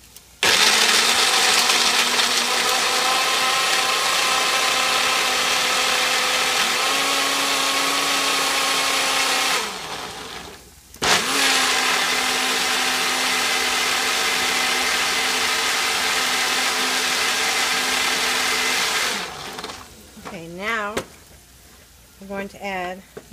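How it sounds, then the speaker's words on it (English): A blender purées tomato basil mushroom alfredo sauce in two long, steady, loud whirring runs separated by a brief stop, with voices talking near the end. "We're just going to blend this."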